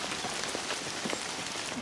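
Steady rain patters on outdoor surfaces in an even hiss with scattered close drops, continuous for the whole stretch with no voices over it.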